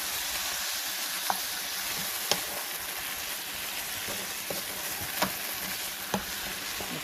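Kimchi stir-fried in a pan: a continuous even sizzle with occasional soft knocks of the utensil against the pan, close by, no voices.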